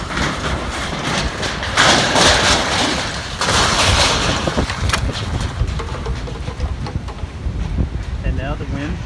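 Hurricane Michael winds roaring in Marianna, Florida, loud turbulent gusts buffeting the microphone in surges, with rattling and clatter, strongest early then easing slightly but continuous.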